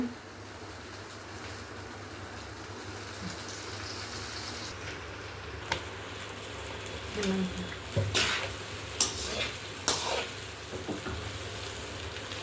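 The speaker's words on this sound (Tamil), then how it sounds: "வெண்டைக்காய் வெந்துட்டு இருக்குதுங்க" Okra frying in coconut oil gives a steady low sizzle throughout, with a few sharp clinks and scrapes near the end as it is stirred.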